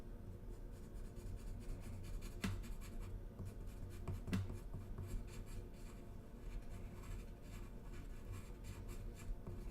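Pencil drawing on paper, a continuous soft scratching and rubbing with occasional sharper strokes, close and quiet with no voices.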